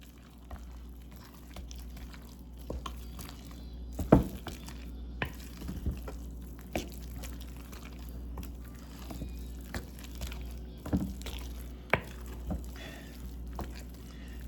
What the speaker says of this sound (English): And I'm going to mix accordingly.